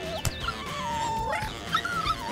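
Cartoon dogs whimpering and yipping, a series of high wavering whines with a few short sharp yips, close and fairly loud with no talking.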